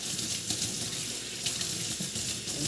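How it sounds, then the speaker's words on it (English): Tap water runs steadily into a sink as a wooden spoon is rinsed, a constant close rushing splash with no pauses. "Rinse it off."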